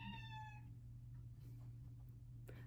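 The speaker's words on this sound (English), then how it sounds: "I have a very needy cat, and she will be in and around making noise" A single faint meow from a cat rises and fades at the start, followed by a low steady hum and soft shuffling.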